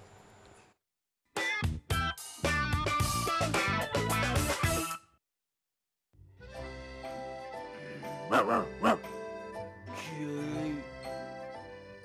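Dogs barking in loud, rapid bursts, close by, in two stretches separated by a short gap, with a busy harmonic clamor throughout.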